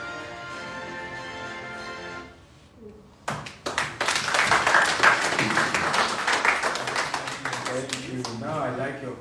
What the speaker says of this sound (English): Now I like your clap.